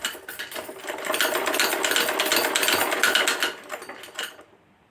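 A sewing machine stitches the sides of underwear fabric in a steady close whir that runs about four seconds, then stops, leaving near silence.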